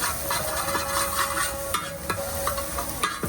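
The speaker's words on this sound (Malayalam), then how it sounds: "എന്നിട്ട് അതൊന്ന് ചിക്കിയെടുത്തു" A street vendor stir-frying egg noodles in a pan, a steady loud sizzle with repeated scraping and clanking of the utensil against the metal at an uneven rhythm, heard up close.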